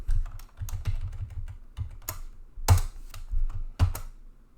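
Someone types on a computer keyboard, with close, irregular taps and a few louder key hits over a few seconds. No one speaks.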